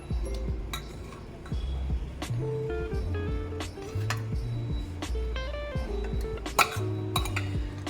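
A metal spoon scrapes and clinks against a pressure cooker and a serving bowl while cooked spiced brinjal rice is scooped out, with repeated clattering knocks and one sharper clang near the end.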